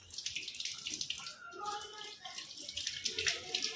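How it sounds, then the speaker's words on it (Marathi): Running water washes over a metal Shri Yantra being cleaned of stuck kumkum, a steady splashing tap flow with soft drips, close and continuous, with a voice faintly present. "पहिले हे स्वच्छ आपण धुवून घ्यायचं आहे."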